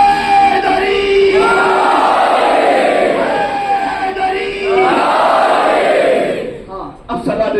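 A large mourning gathering at a Muharram majlis in an imambargah in Bhopal roars a religious slogan back in unison, two long massed shouts swelling and fading, loud and close, before a brief pause.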